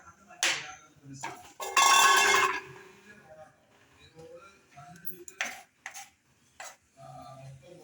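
Okra is sliced quickly with a knife, a few sharp taps and scrapes against the board amid a brief clattering burst, with someone talking in between.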